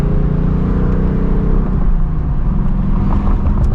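Steady low engine hum and road rumble inside a new 2024 Ford Mustang GT S650 cruising on the road, continuous and fairly loud with a slight shift in pitch partway through.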